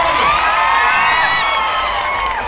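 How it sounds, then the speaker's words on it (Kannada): A crowd at a folk music festival event bursts into loud, sustained clapping and cheering, dense and continuous with whoops rising above the applause. "ಒಂದ್ಸಲ ಗಟ್ಟಿಯಾದ ಜೋರಾದ ಚಪ್ಪಾಳೆ"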